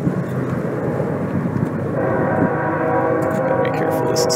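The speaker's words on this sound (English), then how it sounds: "Hear the train in the distance." A distant train rumbles steadily near Puget Sound in the Pacific Northwest, a low continuous drone with a faint tonal hum that builds slightly partway through.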